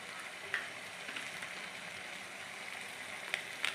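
Chicken and spices frying in a pan for chicken kosha, a faint, steady sizzle with a few soft clicks of stirring and no talking.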